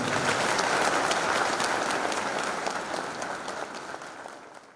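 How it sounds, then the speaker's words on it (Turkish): Steady applause from a crowd in Aksaray, a dense wash of clapping that holds strong and slowly fades over about five seconds. "Ve alkış istiyorum Aksaray'a alkış."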